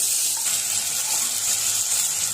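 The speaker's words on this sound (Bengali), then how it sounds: "তেল গরম হয়ে গেছে, পনিরগুলো ভেজে নেবো।" Paneer pieces frying in hot oil in a home kitchen, a steady bright sizzle and hiss that continues without a break.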